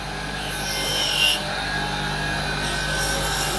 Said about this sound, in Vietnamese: đây là cái máy khoan lỗ